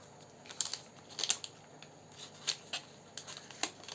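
Quiet crinkly tearing and rustling of a paper packet, in several short, uneven bursts with soft pauses in between.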